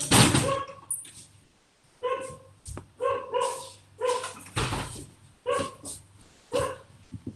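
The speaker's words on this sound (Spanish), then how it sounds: "el perro que ladra" A dog barking outside, heard through a window: a string of about nine sharp, fairly loud barks in a steady, uneven rhythm, each followed by a short pause, with no talking.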